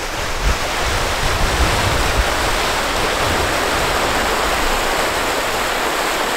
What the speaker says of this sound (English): I've just gotten to the river where it's like flowing.